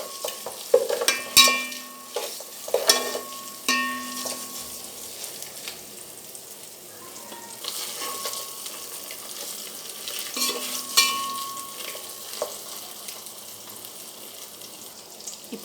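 Cut eggs frying in oil with spices, a soft sizzle broken by intermittent spatula scrapes and clinks against the pan, fairly quiet and close.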